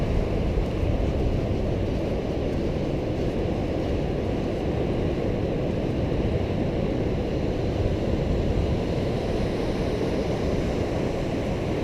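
Waves rolling onto a rocky beach on the Washington coast, a dense, loud, steady roar of surf that continues without pause and without any voices.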